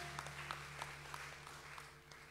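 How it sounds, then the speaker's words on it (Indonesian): A congregation claps together during a Sunday church service marking Reformation Day, a steady, fairly quiet patter of many hands under a low electrical hum, with no voices standing out. "Mari kita tepuk tangan."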